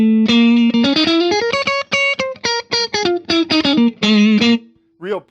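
Electric guitar through a modded Ibanez TS9 Tube Screamer into a Vox AC30, a loud, punchy overdriven riff of quick picked notes and chords, ending on a short squeal.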